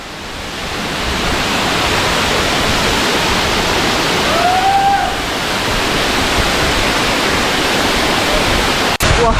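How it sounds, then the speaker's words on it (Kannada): A waterfall at Kudremukh roars as a loud, dense, unbroken rush of water heard from very close, filling the whole stretch with no speech. "ಫಾಲ್ಸ್ ಒಳಗಡೆ ಹೋಗ್ತಾ ಇದ್ದೀನಿ."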